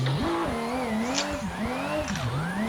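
Simulated race car drifting around the first turn of a Seattle layout in a sim racing game, engine note rising and falling through shifts with sustained tire squeal, loud and continuous, no voices over it.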